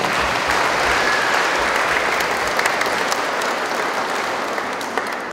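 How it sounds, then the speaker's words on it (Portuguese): A church congregation at a Semana Mariana gathering in the Archdiocese of Belém gives a sustained round of applause, steady and full throughout, fading slightly at the end. "Mais uma vez, uma salva de palmas."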